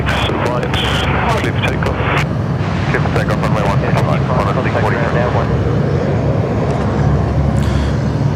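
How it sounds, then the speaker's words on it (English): A Garuda Airbus A330 airliner roars loudly and steadily at Sydney Airport, its broad jet engine noise filling the scene while people talk over it. "beautiful Garuda A330"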